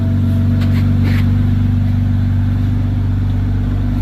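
A BMW 328i with its muffler deleted idles loud and close, a deep steady exhaust drone with a heavy low rumble holding throughout, no talking over it.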